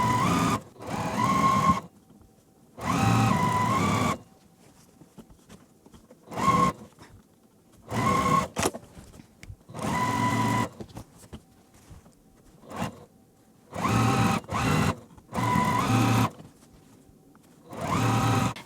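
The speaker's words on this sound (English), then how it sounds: "I'm going to sew these at my machine" A home sewing machine stitches quilt pieces for a beginner layer cake quilt, running in repeated bursts of one to two seconds separated by short pauses, close and steady, with no talking.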